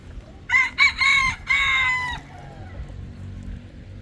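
A rooster crows loudly and close by on a farm among game fowl crossbreeds, one full crow with a sharp, stuttering start, set against a faint background of other birds.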